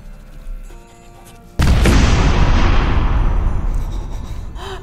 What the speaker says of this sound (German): eine Explosion ist immer gut.